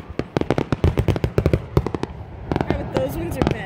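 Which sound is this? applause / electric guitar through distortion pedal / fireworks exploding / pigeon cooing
fireworks exploding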